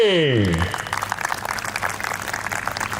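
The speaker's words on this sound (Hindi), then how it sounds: "तालियां और ज्यादा होनी चाहिए।" Audience applause greeting a magician and mind reader at a college celebration event, a dense wash of clapping that starts right after a fading voice and continues steadily at moderate level.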